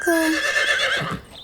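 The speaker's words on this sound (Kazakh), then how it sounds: "Бұл жылқы." A single close, loud horse whinny, a sustained quavering tone that slides upward and then fades into a breathy exhale.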